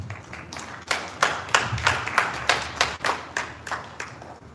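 An audience claps at a live event for a climate policy centre, about ten separate bursts of hand claps in a steady, fairly loud rhythm with no voices over them.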